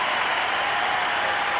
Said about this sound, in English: a round of applause, standing ovation from a lot of people in the ballpark